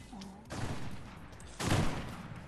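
Fortnite gunfire bursts out in short volleys, a muffled spray of shots followed by a louder, closer burst and a sharp final crack.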